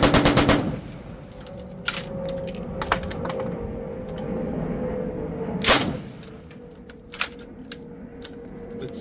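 Ultimax 100 light machine gun firing 5.56 rounds outdoors, heard as a short loud automatic burst and then a second one, with brass jingling and scattered clinks between them.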